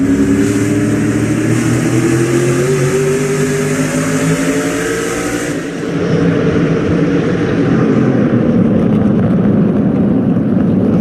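A race car engine at Stafford, captured onboard Ryan Newman's car, roars loudly and steadily throughout, its pitch holding then shifting midway as the car changes speed.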